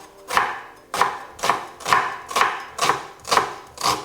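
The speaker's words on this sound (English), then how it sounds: "What do you guys rate this onion cutting technique?" An onion is chopped with a knife on a board, giving eight to nine close, sharp thunks at an even, unhurried rhythm.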